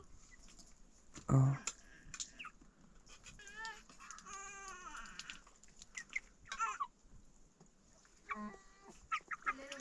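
Chickens cluck and call in short bursts around a farmyard in rural Himalayan Nepal, with people talking nearby and a louder squawk near the start.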